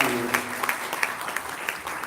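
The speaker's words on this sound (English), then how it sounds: "Let's give them a big round of applause to the panel." An audience applauds a panel after a discussion on international content sales, a steady spread of clapping with a few sharper individual claps standing out, and faint voices underneath.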